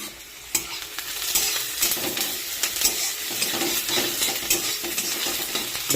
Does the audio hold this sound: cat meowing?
no